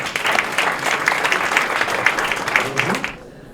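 Audience applause at a press conference, dense clapping filling the room at a strong level before cutting off abruptly near the end as a voice starts to speak.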